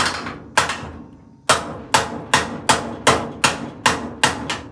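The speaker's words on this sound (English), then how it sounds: "doing a little finessing and a little hitting with the baby sledge" A small sledgehammer strikes metal in a steady series of about ten sharp, ringing blows, close and loud, with a brief pause after the first two hits and even spacing thereafter.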